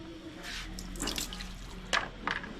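Hot water is poured into a gas pipe during a home gas regulator repair, a close splashing pour with a sharper gush near the end.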